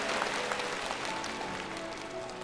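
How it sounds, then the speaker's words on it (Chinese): A studio audience on a singing challenge show claps warmly and steadily, a dense sustained wave of applause heard alone without talk. "在你唱之前我还是希望大家再热烈的掌声鼓励他"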